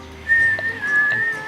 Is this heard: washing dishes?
no